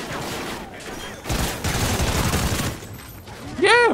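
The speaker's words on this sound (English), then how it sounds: "Pistol feels nice in this game." Pistol gunfire in the Call of Duty Ghosts campaign mission Birds of Prey, with rapid shots cracking in a dense burst amid battle noise and a sharp ringing effect near the end, while a player shouts briefly.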